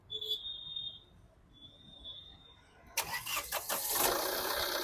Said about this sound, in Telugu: సింగిల్ సెల్ఫ్లో బండి స్టార్ట్ అవుతుంది సార్